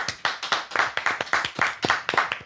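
Several people clap their hands in a quick, fairly even rhythm, a string of sharp close claps heard with no talking over them.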